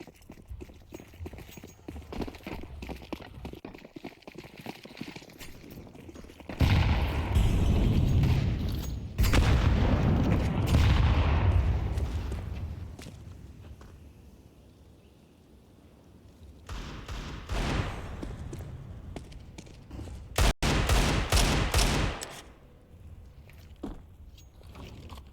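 Gunfire and grenade blasts from an esports video game match between NiP and Aurora at PGL Astana 2025: booming bursts and rattling shots swell and fade, with scattered quick footstep-like taps in between and no voices.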